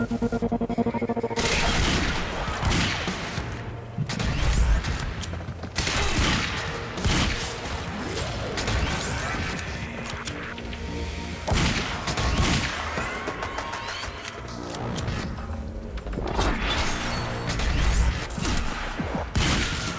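Gunfire in the video game Quantum Break comes as repeated loud bursts and sharp shots in clusters across the whole stretch, with booming impacts between them.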